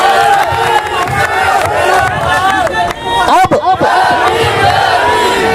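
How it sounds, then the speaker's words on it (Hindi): A large crowd at a Dalit community political rally claps and cheers loudly and continuously, a dense roar of applause and shouting with a brief dip partway through. "एक बार इस संविधान के नाम पर ताली"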